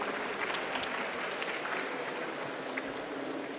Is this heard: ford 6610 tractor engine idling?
no